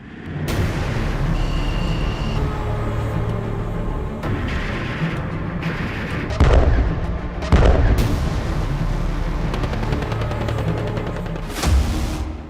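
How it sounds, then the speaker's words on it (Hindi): Artillery shells, drones and fighter jet air strikes in the Russia–Ukraine war produce a continuous rumbling din, broken by several heavy, deep booms near the middle and one more toward the end, with no voices. "जरा देखिए यूक्रेन के ड्रोन, तोप के गोले और फाइटर जेट के हवाई हमलों से कैसे रूसी सेना तबाह हो रही है"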